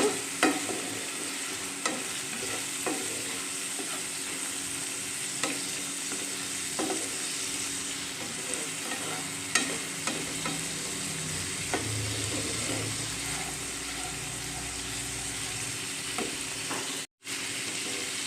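Spice masala for jackfruit kofta, loosened with a little water, fries with a steady, close sizzle. Occasional spoon taps and scrapes mark the stirring throughout, with no voices.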